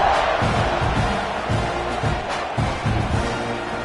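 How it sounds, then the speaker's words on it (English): Stadium crowd noise in a college football video game, a dense steady roar of many voices with faint swells, heard alone after a score by Texas A&M against Penn State. "this crowd is buzzing after that last score"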